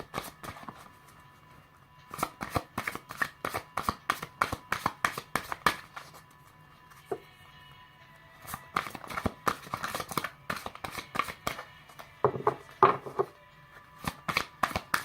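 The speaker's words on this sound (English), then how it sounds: "So again, I'm just shuffling again." Tarot cards being shuffled by hand, a quick run of crisp riffling bursts in repeated flurries, close and fairly quiet, with brief pauses between rounds.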